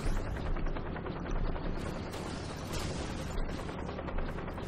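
Shotgun fire in the Robocraft video game: rapid, dense bursts of gunfire that run together into a loud, continuous barrage with no breaks, with no talking.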